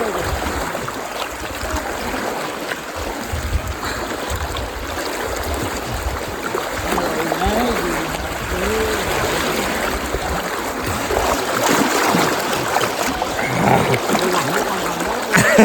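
Fast water rushes over large rocks at a riverside near a Shiva temple, a constant close churning and splashing roar, with faint voices talking underneath.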